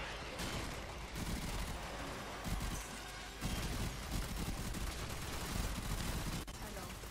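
Grakata assault rifle fire in Warframe during a survival mission, sustained rapid automatic bursts that run nearly throughout, dense and rattling, with brief pauses and a voice talking over part of it.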